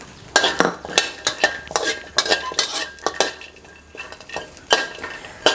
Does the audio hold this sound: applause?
no